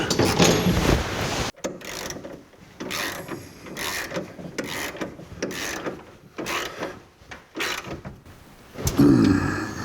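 Bolts joining two metal plates are tightened with a ratchet while a 1982 Jeep CJ7 dashboard is installed, giving repeated creaking, clicking mechanical strokes close by with short pauses and clatter, and no talking.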